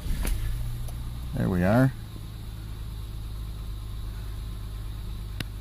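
A 2002 Acura TL engine cranks with a short rising starter whine, then settles into a steady low idle that continues to the end, with a person speaking briefly over it.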